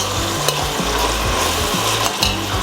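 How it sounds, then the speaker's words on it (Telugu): Chopped onions fry in a pan for a Hyderabadi paneer vegetable biryani, a loud, steady broadband sizzle with a few sharp spoon scrapes as they are stirred. "ఈ ఆనియన్స్ కొంచెం ఫ్రై అయ్యే వరకు వెయిట్ చేయాలి"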